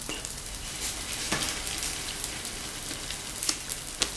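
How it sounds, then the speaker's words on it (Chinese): Korean hotteok, sweet filled pancakes, pan-frying in a small amount of oil, giving a soft, steady crackling sizzle with a few sharper pops, fairly quiet throughout. "然后这个是油比较少的煎法的这种方式"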